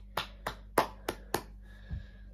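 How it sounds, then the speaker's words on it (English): Five sharp hand claps in a quick, even rhythm, close and fairly quiet, followed by a soft low thump. "Let's get a round of applause for the first double game week."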